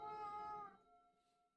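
A cat meows once, a close, clear harmonic cry with a softer, trailing tail, quiet indoors with no talking.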